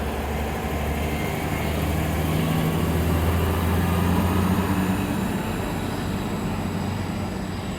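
The final northbound service to Scone departs Aberdeen Station, a small single-platform stop, with a steady, loud rail rumble and low engine drone holding through the whole stretch, with no talking.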